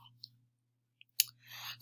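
Mouse clicks while selecting a monthly budget on a computer: a few short, soft clicks spaced apart, close by, over a low steady hum.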